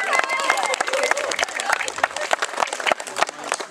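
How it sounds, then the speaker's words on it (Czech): An outdoor audience at an awards announcement for a firefighting competition applauds, a dense patter of many clapping hands with voices mixed in. "Děkujeme za potlesk."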